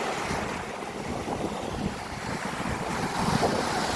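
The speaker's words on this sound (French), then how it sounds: "Et les vagues sont merveilleuses" Steady rushing surf with continuous broadband wash, waves breaking nearby under gusty wind buffeting the microphone, no voices.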